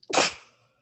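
A single sharp sneeze bursts out close by, then fades quickly into silence.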